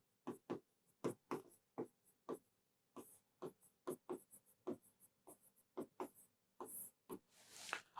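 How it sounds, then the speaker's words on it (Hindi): Pen strokes scratch across paper in short, rhythmic bursts with brief pauses as someone writes notes by hand, close and clear, with no talking over it. "लिख दे रहा हूं मैं कहीं"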